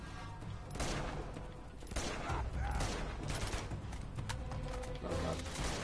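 Rapid gunfire bursts crackle through a firefight in the PlayStation 4 game Uncharted 2: Among Thieves, loud and dense, repeated volleys stacking over a steady battle din with a faint voice in the mix.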